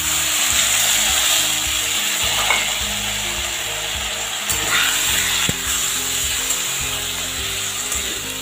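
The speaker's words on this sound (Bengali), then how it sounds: "ডালিয়াটা একটু ভালো করে তেলের মধ্যে নাড়াচাড়া করে নেব।" Broken wheat (dalia) stirred in hot oil with fried whole spices such as cardamom: a continuous close sizzle under repeated scraping of a spoon against the pan, with occasional knocks and clicks, and no talking.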